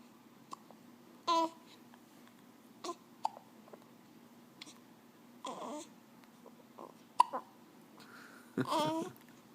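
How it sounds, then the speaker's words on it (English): Abrupt hiccups come a few seconds apart, each a short, sharp catch of breath, mixed with soft babbling vocal noises in a quiet room. "Somebody's got the hiccups."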